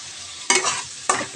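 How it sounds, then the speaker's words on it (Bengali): Chopped medium-size tomato tipped into frying spices in a pan while cooking a Bengali mustard-poppy seed fish curry, giving two bursts of hissing sizzle and spatula stirring, close and loud, no talk. "টমেটো কুচি দিয়ে দিচ্ছি একটা মিডিয়াম সাইজের টমেটো দিয়ে দিলাম"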